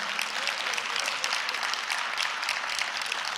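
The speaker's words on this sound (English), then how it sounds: "Give her a big round of applause." Steady, dense applause from a crowd, continuous and fairly loud throughout with no talking.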